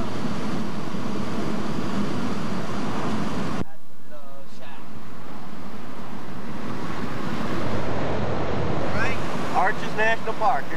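Strong current of the cold Colorado River rushes in a steady, loud broadband wash, with heavy wind buffeting the microphone and a brief drop midway before faint voices return near the end.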